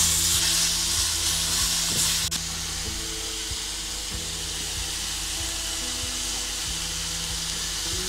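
Courgettes fry steadily in a pan with a continuous sizzle and hiss, broken by a few soft clicks as they are stirred. No one speaks.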